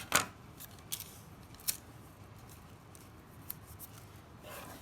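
Scissors snip through tape on a handmade pull piñata, a sharp close cut at the start followed by a few lighter, quieter snips spaced over the next seconds against faint room noise.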